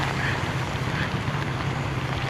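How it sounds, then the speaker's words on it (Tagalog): Strong wind and heavy rain batter a vehicle on a mountain road near Baguio City in the Philippines, a dense, steady roar of wind noise and rain with no break. "Malakas na ulan, malakas na hangin"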